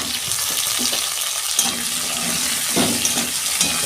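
Cubed potatoes and eggplant fry together in hot oil in a pan for a fish curry. A steady close sizzle runs throughout, broken by occasional stirring scrapes, with no talking.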